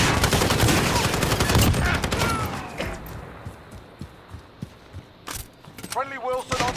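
Rapid, loud bursts of AUG rifle suppressive fire in a shooter video game, a dense fusillade that thins into scattered single shots, with game voices and effects near the end.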